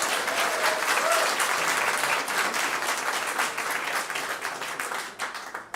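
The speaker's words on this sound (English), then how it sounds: "Give them a round of applause." At an Indigenous arts awards ceremony, a large audience claps for the backstage crew with full, crisp applause that holds strong for several seconds, then thins out and tapers off near the end.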